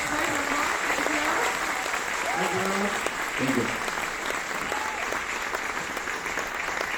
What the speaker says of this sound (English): give a round of applause to our fantastic expert